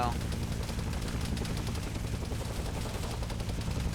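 Friendly forces fire guns during a night-time patrol in a Vietnam War video game, a continuous dense crackle of rifle and machine-gun fire that stays steady and fairly loud throughout with no pauses.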